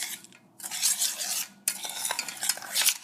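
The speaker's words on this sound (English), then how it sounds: "Well, I'm not done stirring it yet." A spoon stirs a thin, tomato-juice-like mixture in a container, producing scraping, swishing strokes in two bursts separated by short pauses, close and fairly loud.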